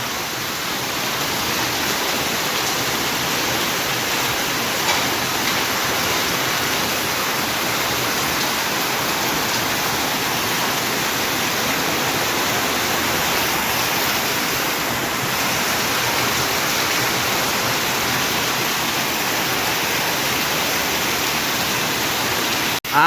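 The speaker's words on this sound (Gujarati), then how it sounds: "આમ જો વરસાદ આવી ગયો, ધબધબાટી બોલાવે." Heavy monsoon rain pours down in a steady, dense, hissing roar that stays loud and unchanging throughout, with no voices.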